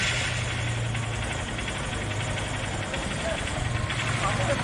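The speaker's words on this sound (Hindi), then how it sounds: "मैंने न्यूट्रल करके बाइक को स्टार्ट कर दिया है" A Honda Shine motorcycle idles in neutral, its engine a steady, low, even rumble that continues throughout against some background noise.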